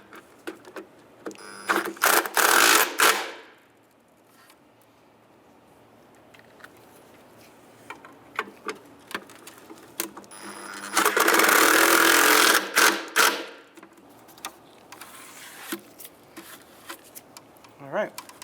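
A power screwdriver whirs in two long bursts while driving bolts into a corner light for a 1992-1996 Ford F-150, with clicks and handling noises between and a person talking over parts of it.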